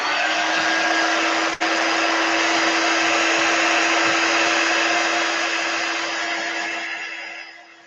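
Steady, loud blowing roar of a hair dryer drying paint on a wooden clipboard, continuous for several seconds with one brief click near the start and a gradual fade at the end, no talking.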